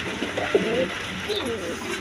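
Pigeons at a breeder's loft coo softly in a couple of short low phrases close by, with a faint background murmur.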